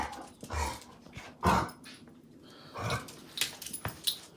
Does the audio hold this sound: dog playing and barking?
yes